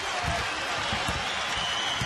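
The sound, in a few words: basketball crowd cheering after a defensive play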